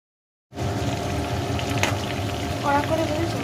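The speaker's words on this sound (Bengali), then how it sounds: "আমি চিংড়ি মাছগুলো এক এক করে আমি ভেজে নেব" Prawns frying in a pan in a home kitchen: a steady, crackling sizzle starts abruptly after a moment of silence and stays even and moderately loud, with a few brief pops and spits.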